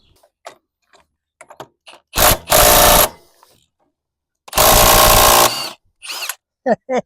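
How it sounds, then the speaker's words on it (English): A 27mm socket on an extension driven by a power tool loosens a stubborn motorcycle nut, two loud sustained bursts of rattling impact whirring close by, separated by quiet pauses and short clicks, with brief speech fragments between. "we're going to use on this one 27mm socket with extension"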